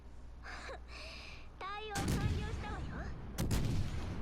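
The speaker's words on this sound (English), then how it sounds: "I'm going to put those salvos out just to piss him off." Heavy battleship main-gun salvos from HMS Warspite in a naval video game, sounding as two loud, booming blasts with rumbling tails, following quieter game effects and chimes.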